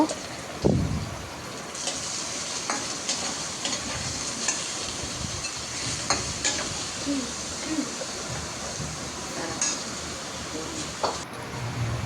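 Onion and potato frying in hot oil, a steady dense sizzle and hiss throughout with occasional clinks and stirring knocks, close and continuous.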